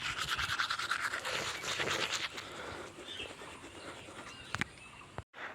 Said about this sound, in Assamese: এতিয়া মই ব্ৰাছ কৰি আছোঁ, সেইকাৰণে আৱাজটো চাগে অকণমান শুনিবলৈ বেলেগ যেন লাগিছে।